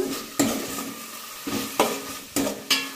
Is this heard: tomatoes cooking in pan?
yes